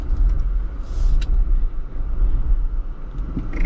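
A 2025 Jeep Wrangler Rubicon engine rumbles low and close off-road as traction control works, a loud steady drone with brief surges and faint clicks above it.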